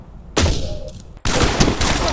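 Gunfire bursts in the Pavlov VR shooter game, two loud close volleys of rapid shots separated by a brief lull.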